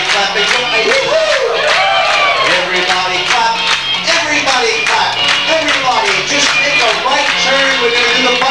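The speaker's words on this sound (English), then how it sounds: "Everybody clap their hands in place." Party guests at a 1989 wedding anniversary celebration clap their hands in a steady, continuous rhythm, loud and close, mixed with crowd noise and cheering voices throughout.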